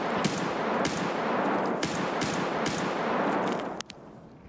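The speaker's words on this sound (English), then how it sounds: "Are you shooting me?" Gunfire in the video game Escape from Tarkov rings out in loud, rapid bursts of shots that run almost without a break, fading off near the end with a few scattered cracks.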